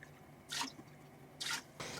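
Distilled white vinegar is poured into a pot on a stovetop for bread and butter pickle brine, heard as three quiet, short splashy liquid bursts with near-silence between them.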